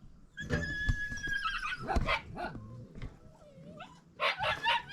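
Newborn puppies of a nursing village dog named Blue make thin, high whimpers and yips in several short bursts, close by, with faint background noise between cries.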